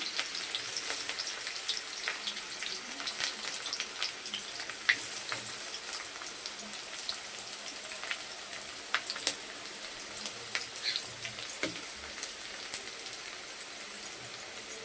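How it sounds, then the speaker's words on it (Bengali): Chopped onion and garlic fry in oil in a pan, crackling and sizzling steadily at close range throughout, with scattered sharper pops and no talking. "এর মধ্যে আমি পেঁয়াজ কুচি দিয়ে দিলাম। তারপর দিয়ে দিচ্ছি রসুন কুচিটা।"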